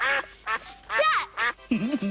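A person imitates duck quacking with a series of short, nasal voiced quacks in an irregular rhythm, close and fairly loud.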